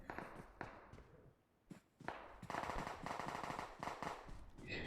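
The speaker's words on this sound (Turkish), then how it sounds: "Yoğun çatışma sesleri var." Dense gunfire from a PUBG Mobile firefight, with rapid automatic bursts and scattered shots, brief near-silent gaps early on, then a steady heavy barrage filling the second half.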